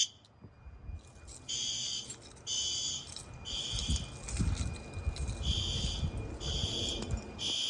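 A fire alarm sounder goes off during a routine monthly building test of alarms, emergency lighting and backup power, a steady electronic tone pulsing on and off in repeated bursts over a low rumbling background.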